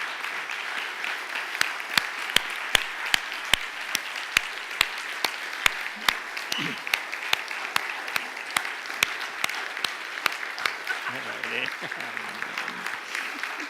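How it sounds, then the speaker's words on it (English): A church congregation applauds in tribute to Patti as she walks up, sustained crowd clapping with sharp individual claps standing out near the mic, while a voice talks briefly over it. "keep clapping for her"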